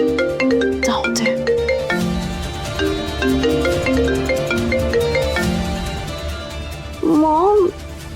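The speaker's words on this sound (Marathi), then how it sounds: "एवढं सकाळी सकाळी कोण फोन करतंय?" A mobile phone rings early in the morning with a loud, repeating melodic ringtone that plays on and on, and a short wavering vocal sound cuts in near the end.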